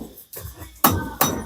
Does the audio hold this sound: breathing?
no